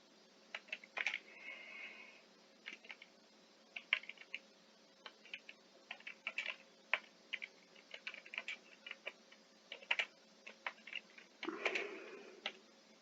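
Quiet typing on a computer keyboard, irregular clusters of light key clicks spread through the clip with brief pauses between bursts, no voices.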